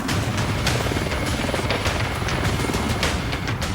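A rescue helicopter hovers overhead while a stretcher is winched up, its rotor giving a loud, steady, close thudding roar with rapid blade chop throughout and no voices heard above it.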